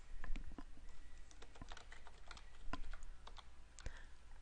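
Someone types a short event name on a computer keyboard, a quiet run of irregular key clicks and taps close by, with soft room hiss and no talking.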